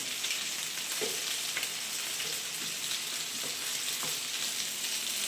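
Potatoes fry in a pan with a soft, even sizzle that runs continuously, broken by occasional faint pops and light stirring taps.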